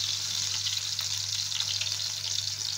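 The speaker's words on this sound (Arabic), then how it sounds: "نزلنا بشوية سمنة بلدي بنسيحهم ومعاهم فصين ثوم" Ghee melting in a pan with garlic cloves, giving a steady close sizzle and frying crackle that holds evenly throughout, with no talking.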